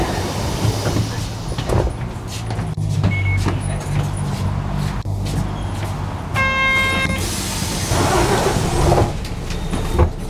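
The middle door of Yokohama city bus 2-3362 opens and closes with pneumatic hisses and mechanical clunks over the idling engine, with a brief electronic chime.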